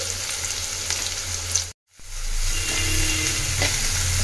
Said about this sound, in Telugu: సో ఈ ఆనియన్ మిర్చి ఒక 2 మినిట్స్ వరకు ఫ్రై అవ్వాలి.